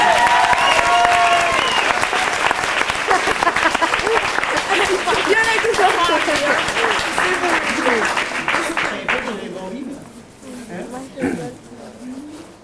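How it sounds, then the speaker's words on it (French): Audience applause at a campsite show, loud sustained clapping with voices and cheering mixed in, then dying away as talk continues over scattered claps. "Merci Bambi, on l'applaudit."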